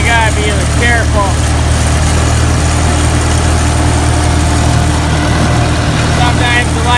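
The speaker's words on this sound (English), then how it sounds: "There's some audio of this tractor." A farm tractor hauling heavy silage wagons on a silage chopping day drones loudly and steadily up close, its deep engine rumble continuous throughout, with faint high squeaks or chirps breaking through near the start and end.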